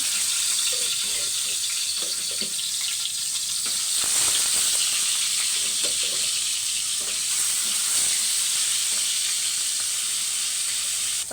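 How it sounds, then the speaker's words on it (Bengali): Fish sizzles steadily in hot oil, a loud, constant crackling hiss with a few soft clinks and stirring sounds underneath. "এখন তেলটা গরম হয়ে গেছে, মাছগুলো দিয়ে দেবো"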